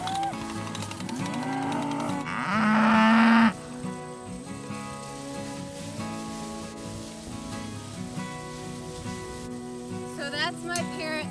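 A herd of Red Devon cows moo loudly and close by, several long lowing calls overlapping, with a brief higher call near the end.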